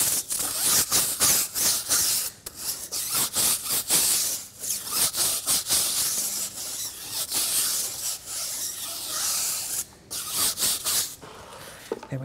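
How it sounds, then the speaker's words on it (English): A stiff yellow brush scrubs the tire of a Porsche Cayenne during wheel detailing, giving a close, loud run of rapid bristle strokes with brief pauses between bursts. "and I'm gonna give the tire a scrub."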